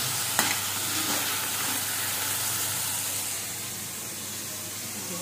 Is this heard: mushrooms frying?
yes